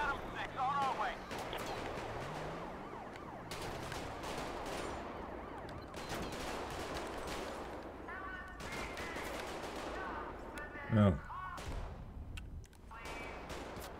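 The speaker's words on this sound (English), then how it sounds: "Dispatch, shots fired." Gunfire in the LSPDFR police mod for a video game: scattered bursts of shots at moderate distance under a busy game soundscape, with radio-style chatter and a single louder boom near the end.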